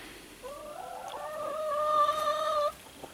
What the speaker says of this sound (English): I'm in my chicken pen